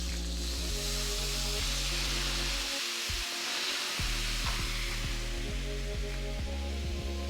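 Pecan liqueur poured into a hot pan while French toast glaze cooks, giving a broad, steady hiss and sizzle that dips briefly, then returns alongside a low humming drone.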